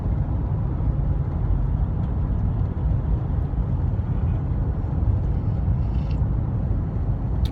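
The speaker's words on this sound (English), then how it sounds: "I'm just driving to the coffee shop." Loud, steady interior road and engine rumble from a car driving along a road, a constant low roar with no pauses and no voices.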